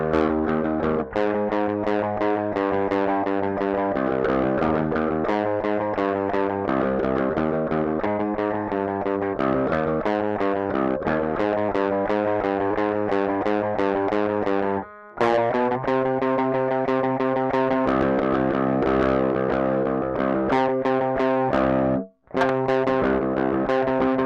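Electric guitar plays a riff, a fast, twangy, effect-laden line of steady picked notes, loud and continuous with two brief breaks, no voices.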